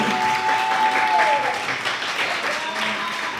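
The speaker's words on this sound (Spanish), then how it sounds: "quisiera pedir un aplauso" A crowd at a summit event applauds steadily, a dense wash of clapping that stays fairly even throughout, with faint voices mixed in.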